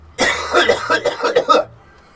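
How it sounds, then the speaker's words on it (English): A close, loud fit of about five rapid, rough coughs runs together in quick succession and then stops, leaving quiet room tone. "Oh, I got a sneaky cough."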